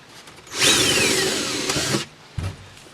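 A power drill bores a hole through wooden dinghy steps near the chine, producing a loud, close whine that sweeps downward as the bit bites for about one and a half seconds, then stops, followed by a short knock.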